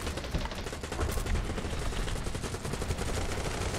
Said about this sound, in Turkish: Allah karşıdan çok pis sıkıyorlar.